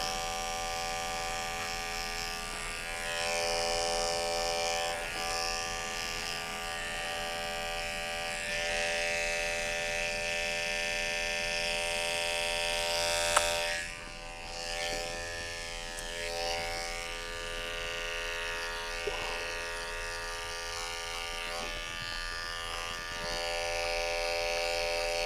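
An electric clipper trims a Havanese dog's coat, a close, steady motor buzz running almost continuously with a brief dip midway.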